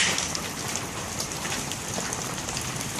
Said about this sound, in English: those are big pieces of hail hitting my roof